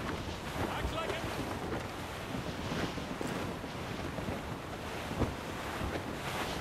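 Wind and sea surround a sailing ship at sea in Assassin's Creed Rogue, a steady roaring, gusting rush with water wash and no distinct events throughout.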